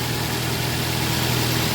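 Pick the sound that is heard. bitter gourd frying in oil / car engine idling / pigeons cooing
car engine idling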